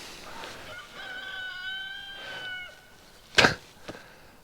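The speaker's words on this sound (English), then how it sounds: "She's gonna start her crowing on the minute every minute." Rooster crowing outdoors near a hayfield, one clear mid-distance crow with a drawn-out rising and falling call, followed by a short sharp burst of noise and a fainter second sound.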